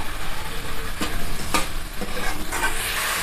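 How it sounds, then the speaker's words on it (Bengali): Spice masala sautés in hot oil for a mourola fish jhal curry, a continuous close sizzle broken by several sharp scraping stir strokes of a spoon against the pan. "মশলা আমার সবগুলি দেওয়া হয়ে গেছে, আমি ভালোভাবে কষিয়ে নেব"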